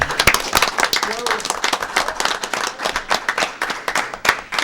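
An audience at a board meeting recognising an outgoing board member bursts into scattered applause, with dense, uneven clapping throughout and voices talking over it.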